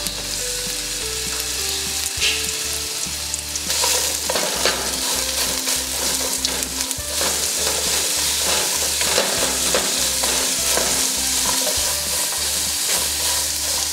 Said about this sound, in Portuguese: Aqui eu vou mexendo para poder fritar por inteira